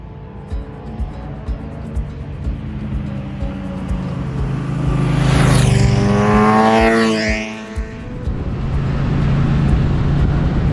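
A Harley motorcycle cruises down the road on a Sunday morning memorial ride, its engine droning loudly and up close, swelling to a peak as it passes and then easing back to a steady rumble.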